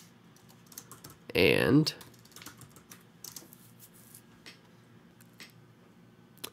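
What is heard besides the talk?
typing on a computer keyboard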